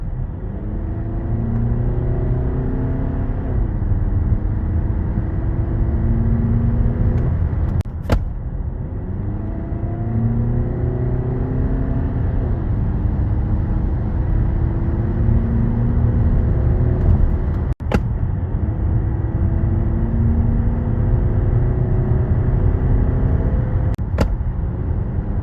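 A Skoda Kodiaq with the 2.0 TDI 150 diesel and seven-speed DSG gearbox pulls away repeatedly from inside the cabin, a steady rumble climbing through gears with sharp clicks at the shift points and a noticeable hesitation before each pull.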